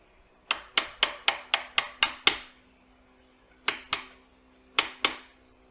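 Tab on a Harley Davidson inner primary being bent with a hammer: a rapid run of about eight sharp metallic taps, then two more pairs of strikes after a pause, close and fairly loud, with no voices.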